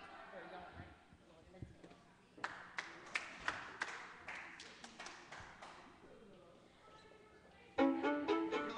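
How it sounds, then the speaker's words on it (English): Audience clapping for a performer at a live show, a scattered run of claps building to a denser burst of applause near the end, heard under an announcer talking over a PA. "Somebody clap your hands out there for Albert doing it for you"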